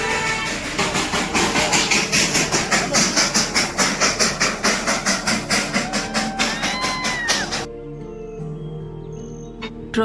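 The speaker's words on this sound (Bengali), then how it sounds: "টয় ট্রেনের আওয়াজ কানে আসাতেই তোমরা বুঝতে পেরে গেছো যে আমরা কোথায় এসেছি" A Darjeeling toy train's steam engine at Batasia Loop puffs loudly in fast, even chuffs with hiss and a few squeals for about seven seconds, then falls away to quieter outdoor ambience.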